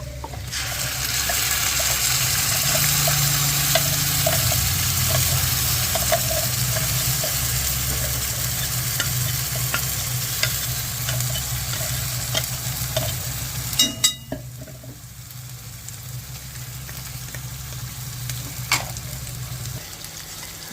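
A tomato and onion masala paste sautés in oil, giving a loud continuous sizzle with steady stirring and a few scrapes, then a slight drop in intensity before the frying carries on.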